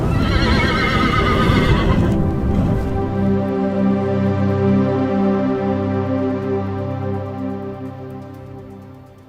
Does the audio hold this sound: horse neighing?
yes